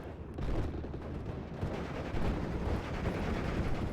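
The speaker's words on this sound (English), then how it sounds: "You got this AT gun being hit by an MG42 team" Sustained bursts of MG42 machine gun fire rattle through a Company of Heroes battle, dense and continuous alongside other gunfire and explosions, with no talking.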